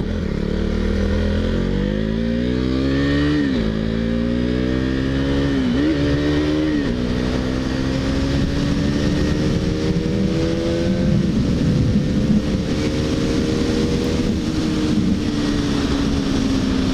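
A KTM Duke 390 motorcycle accelerates hard on the road from about 90 km/h, its engine note climbing steadily through several gear changes, loud and continuous over wind noise.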